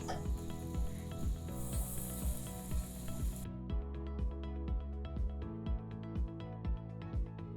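Oil brushed onto a sandwich sizzles steadily in a pan at a Syrian cooking demonstration, with a soft continuous hiss and regular light brushing or scraping strokes repeating throughout.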